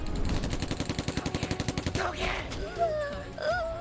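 Rapid automatic gunfire from the video game Tokyo Ghoul: Break the Chains rattles in an even burst for two seconds, followed by game effects and a brief voice.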